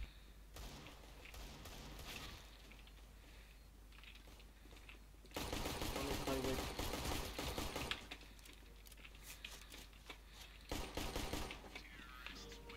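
Glock pistol fire in CS:GO, heard as a few loud, dense bursts of rapid shots against quieter game ambience.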